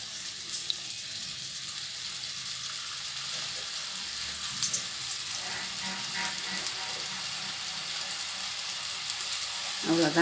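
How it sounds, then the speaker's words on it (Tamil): Jalebi batter fries in hot oil on a low flame, giving a steady, close sizzling hiss throughout with faint clinks near the end. "அடுப்பை சிம்மில் போட்டு இந்த மாதிரி நம்ம ஒவ்வொன்றா பொரித்து எடுத்துக்கலாம்"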